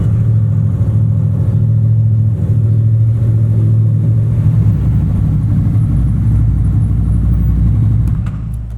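A motorcycle fitted with a new quick shifter pulls away outdoors in poor weather, its engine rumbling loud and steady throughout and rising as it rides off, then easing near the end.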